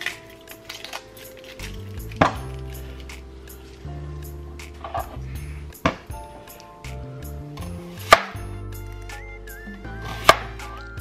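A knife chops onions and other vegetables into large chunks on a cutting board for Jamaican oxtail, with a few sharp, irregular thunks spaced seconds apart over soft background music.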